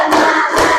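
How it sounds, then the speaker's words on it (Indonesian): Children clap together in a rhythmic classroom concentration-clapping routine, a couple of quick sharp claps, close and loud, with no talking. "Tepuk konsentrasi."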